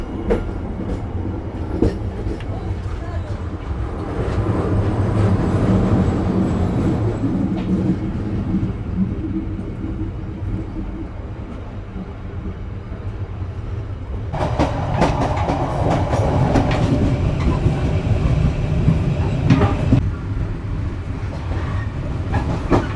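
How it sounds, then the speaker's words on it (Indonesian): Sri Tanjung passenger train rolling through Tanggulangin station without stopping, a steady loud rumble of wheels and carriages with rhythmic clickety-clack over the rails, swelling louder partway through. "Dan ini kita melintas langsung stasiun Tanggulangin."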